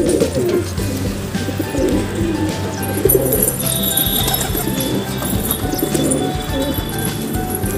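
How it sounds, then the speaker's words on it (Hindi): Pigeons coo and flutter inside a crowded pigeon loft, with a steady murmur of birds and occasional shuffling and clatter close by. "अभी लॉफ्ट के अंदर बहुत सारे कबूतर हैं हमारे"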